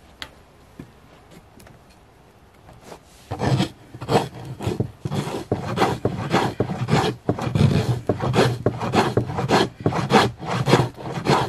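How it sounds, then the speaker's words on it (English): A tool scrapes back and forth across a surface in repeated rough, rasping strokes, loud and close, following a quiet start with no talking. "Okay, we'll keep scraping."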